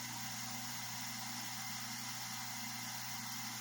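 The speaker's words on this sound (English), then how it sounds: "pump is working" Hydraulic pump running on a Woodmizer BMS250MU sawmill with an electrical issue, a steady, even mechanical hum and drone with constant vibration, close and continuous, no speech.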